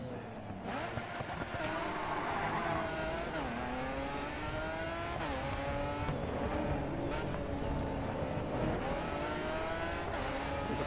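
A McLaren F1 GT racing car in the video game GRID 2 revs hard and steadily, its engine pitch climbing and dropping through gear changes, loud and continuous, with other cars racing nearby.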